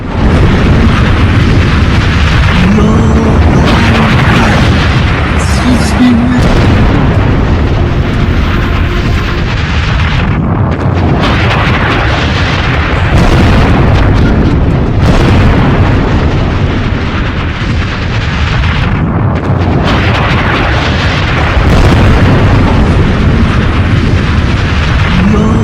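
Explosions from a US missile attack on Isfahan, Iran, a loud, unbroken roar of heavy blasts and rumbling booms that keeps surging and churning without pause.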